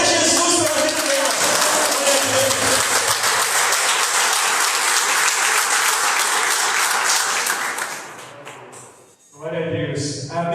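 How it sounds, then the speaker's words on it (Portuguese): A church congregation applauding in welcome, a loud sustained wave of clapping with voices underneath that fades out, followed by a moment of speech. "Aplauda Jesus pela vida delas."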